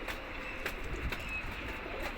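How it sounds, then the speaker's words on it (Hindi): Faint, soft cooing from a native desi pigeon at home, low and muffled beneath steady background hiss, with no talking. "तो भाई ये है अपने घर का पट्ठा देसी कबूतर।"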